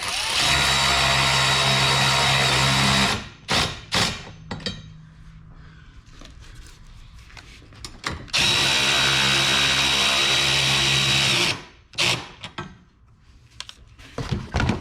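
Power drill or impact driver tightening a nut with a nylon washer on a seat back bracket of an Eskimo Eskape 2400 ice shelter, two loud sustained whirring bursts of about three seconds each, separated by quieter clattering handling sounds.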